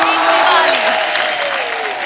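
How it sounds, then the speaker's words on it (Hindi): A studio audience bursts into loud applause and cheering to welcome Ajay Devgan onto the stage of a Hindi comedy talk show, with sustained dense clapping and a music sting sliding underneath. "आप सबकी जोरदार तालियों के बीच please welcome mister Ajay Devgan."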